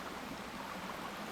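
Water bubbling out of the ground and flowing beside a hiking trail, a soft, steady trickling rush that is faint and continuous.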